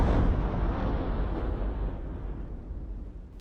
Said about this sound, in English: With the Explosions version of Commonwealth Warfare, you can expect explosions of any kind to have an immersive and realistic effect